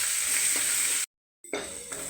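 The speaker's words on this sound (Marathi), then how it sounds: "जिरं टाकून घेऊ आपण. लसूण टाकून घेऊ." Cumin seeds and garlic sizzle in hot oil for misal, a steady bright hiss that cuts out briefly then resumes with a few stirring pops, close and alone.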